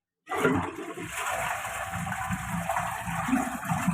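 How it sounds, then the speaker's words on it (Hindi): Ceramic toilet flush tank being serviced, flushing out water in a steady rushing gush that starts abruptly and continues loud and close throughout. "हम इसको पानी को पहले फ्लश आउट कर देते हैं"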